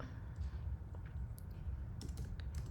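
Fingers tap out a short word on a Mac computer keyboard: soft, quick clicks scattered over about three seconds, faint against a steady low background hum, with no speech.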